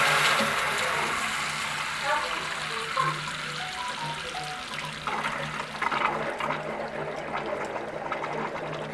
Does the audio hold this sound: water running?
yes